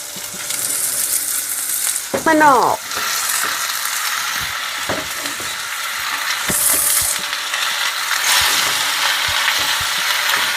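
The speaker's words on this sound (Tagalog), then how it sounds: "igisa yung mga ka-tuber" Steady sizzling of chicken sautéing in a hot pan, with occasional stirring clinks and scrapes, close by and continuous.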